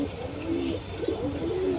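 Several Alexandria pigeons of the ghazar and qatati breeds coo softly and repeatedly, giving low, rolling calls that sit over a steady background hum.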